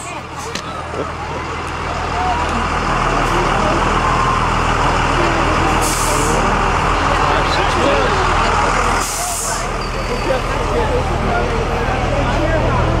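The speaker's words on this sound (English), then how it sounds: "Brenda, nice bus." A bus rolls past in the 2008 Vikings team motorcade, a loud, sustained engine roar with brief hissing bursts, under excited chatter and calls from onlookers.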